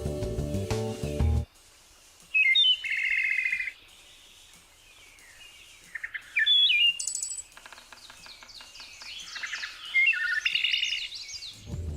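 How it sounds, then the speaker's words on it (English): A songbird sings complex phrases, producing two unrelated pitches at once with its syrinx, in short bright bursts of chirps and warbles separated by quiet pauses, clear and close. "allowing songbirds to produce two unrelated pitches at once, or duet with itself, and make a sound like this."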